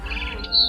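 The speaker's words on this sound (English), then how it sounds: "Then I heard chirping outside my window." A barn swallow chirps in the What Remains of Edith Finch video game, a few short, clear, high tweets close by over a low ambient hum.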